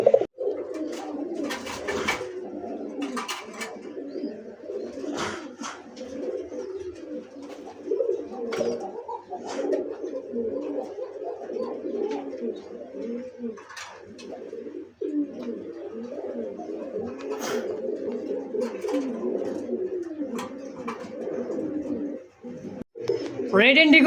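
Rajshahi Giribaj pigeons coo in a steady, overlapping murmur of low throaty calls throughout, fairly close, with a few brief sharper sounds and possible faint talk mixed in.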